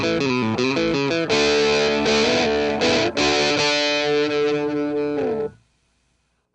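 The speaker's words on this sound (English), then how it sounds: "it gives you this really warm, I'm not going to say overdrive, but kind of a distortion thing that brings out the natural sound of the guitar" An electric guitar played through a Metalmuff distortion pedal set for warm distortion rings out in loud, continuous chords and notes for about five seconds, then cuts off into silence.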